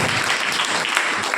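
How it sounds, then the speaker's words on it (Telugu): A congregation at a Sunday church worship service claps in praise of the Lord. The clapping is thick and sustained, close and loud from start to end, with no clear talk on top. "చప్పట్లు కొట్టి ప్రభువును."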